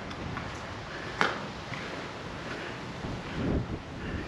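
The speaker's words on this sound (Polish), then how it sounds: "Wiatr." Wind gusts buffet the microphone atop an abandoned furniture factory with its roof gone, a steady rushing roar with one sharp thump partway through.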